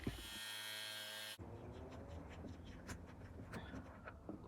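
A power tool cuts through a threaded stud on a Mercedes R107 number plate light, a steady high buzzing whine for over a second that cuts off abruptly, followed by close workshop clatter and handling noise.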